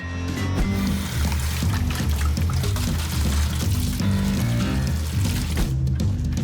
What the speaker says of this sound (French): même si on est bien léché, c'est très important de rincer